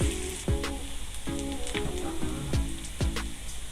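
Finely diced ingredient sizzling and browning in a frying pan for restaurant-style masoor daal, with steady crackling frying noise and several sharp bursts as the pieces are stirred.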